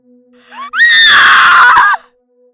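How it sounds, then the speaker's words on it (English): A woman's scream in an audio drama: a short rising gasp, then a loud, sustained shriek lasting about a second before cutting off, alone over a faint steady hum. "The flashlight slipped from her fingers, and she screamed."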